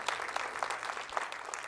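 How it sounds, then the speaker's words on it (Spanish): A church congregation claps loudly for the King during a Spanish-language service, a dense burst of many hands with sharper peaks scattered throughout. "den un fuerte aplauso al Rey"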